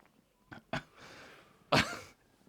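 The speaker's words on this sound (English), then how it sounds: "I coughed the beer. It's very hoppy." A person at Loch Ness Brewery coughs after drinking a hoppy beer, with two sharp coughs followed by a rasping breath and then a harder, louder cough close to the microphone.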